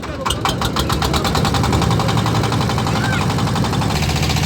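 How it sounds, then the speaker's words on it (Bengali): A boat's engine on a river starts up and settles into a loud, close, steady mechanical chugging with a rapid regular knock. "এখন এই যে নৌকা কিন্তু স্টার্ট দেওয়া হয়ে যাচ্ছে"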